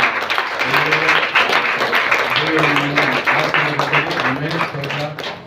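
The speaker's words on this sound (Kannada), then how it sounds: "ಅವರೆಲ್ಲ ಒಂದು ಒಳ್ಳೆ ಚಪ್ಪಾಳೆ ಕೊಡೋಣ" A church congregation claps for its worship team during a Kannada worship service, a sustained patter of many hands with a voice speaking over the applause.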